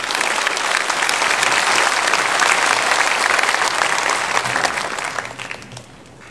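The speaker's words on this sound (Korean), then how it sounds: "우리 나오실 때 큰 박수로 환영해 드리겠습니다." A church congregation at a Sunday worship service claps loudly to welcome the pastor, a dense, sustained roar of applause that holds steady for several seconds, then thins and fades toward the end.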